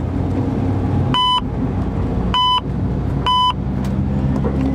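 An electronic lean-warning beeper inside a Carver tilting three-wheeler gives three short, bright beeps about a second apart over a steady low road and engine rumble.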